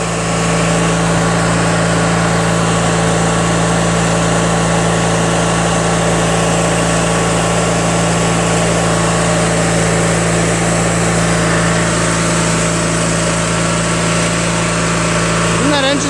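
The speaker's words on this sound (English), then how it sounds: "Doesn't that engine sound good" A Craftsman LT1000 lawn tractor's 21 HP opposed-twin engine runs steadily and loudly at a constant idle-like pace for the whole stretch, with a strong low hum throughout.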